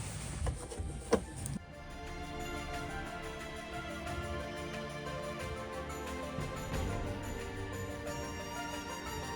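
A sewing machine stitches a fabric seam at a quarter-inch seam allowance during a DIY sewing project, giving a steady, continuous mechanical whir that runs almost the whole time at moderate level.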